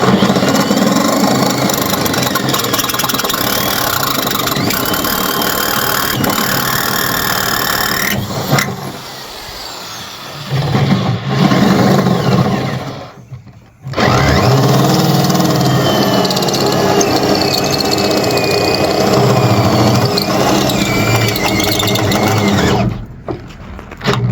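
A drill with a step bit cuts through aftermarket automotive sheet metal, a loud sustained whine with a short break around the middle and another near the end.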